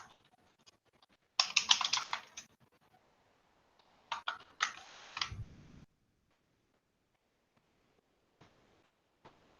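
A password is typed on a computer keyboard during a conference demo, with two quick bursts of close key clicks separated by pauses and a few stray taps afterward, with no talking.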